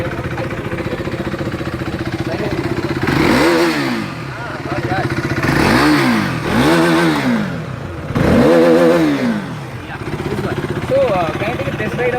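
Motorcycle engine running at idle then revved three times in quick bursts, each rev swelling loud and falling back to a steady close idle between them.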